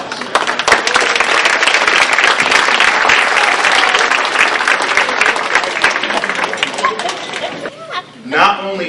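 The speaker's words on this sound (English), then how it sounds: "please stand so that we can give you a round of applause" Freshman students at a banquet receive a loud, sustained round of applause from the crowd, dense clapping that runs for several seconds before tapering off, with a voice speaking near the end.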